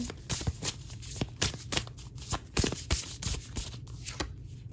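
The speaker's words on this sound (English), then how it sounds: "Pull an oracle card here." Oracle cards shuffled by hand, a quick run of riffling, slapping card noise, close but soft, with no talk over it.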